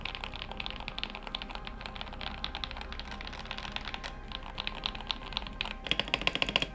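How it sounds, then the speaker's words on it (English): Fast, steady typing on a mechanical keyboard with soft, rounded keystrokes, dense clicks running continuously and growing slightly louder near the end. "He modded this keyboard really well."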